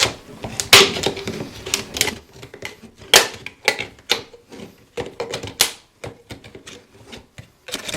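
Metal cutters snip into the lid of a beer can: a quick series of sharp, close clicks and crunches in an irregular rhythm, some louder than others, with no speech.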